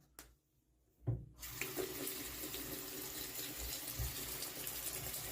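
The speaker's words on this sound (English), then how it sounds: "You want me to turn on the water?" Tap water gushes in a steady, loud stream that begins after about a second of near-silence and runs on without a break, with no voices.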